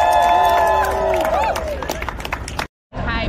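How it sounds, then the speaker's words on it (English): Crowd at an outdoor parks rally outside New York's City Hall claps and cheers, with chatter and whistles mixed in; the clapping swells then thins before a brief dropout. "Let's give them a round of applause."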